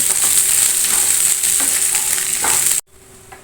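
Dried red chillies fry in a pan on a low flame, giving a loud, close, continuous sizzle with stirring scrapes that cut off abruptly near the end.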